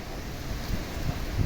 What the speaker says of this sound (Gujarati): વાવઝોડું આવ્યું આંધીનું જોરદાર